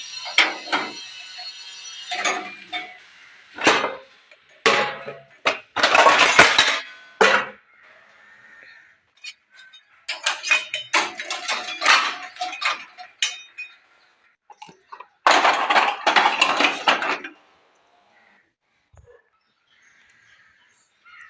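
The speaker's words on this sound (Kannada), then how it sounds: "ಎಲ್ಲ ಜೋಡಿಸಿದ್ದೀನಿ ಗೈಸ್, ಎಲ್ಲ ಜೋಡಿಸಿದ್ದಾಯಿತು ಪಾತ್ರೆ." Steel dishes and pots being stacked and arranged in a home kitchen, giving bursts of sharp metallic clinks and clatters in clusters with short quiet gaps between them, close by and fairly loud, with no talking.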